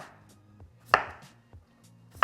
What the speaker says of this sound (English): And I like to cut them small, okay?